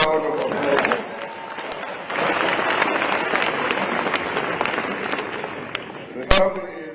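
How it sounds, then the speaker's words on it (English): A crowd at a Black Industrialists Conference, with President Ramaphosa opening it, applauds in a dense, fairly loud wash of clapping that runs nearly the whole clip, with a sharp bang near the end. "Give a round of applause."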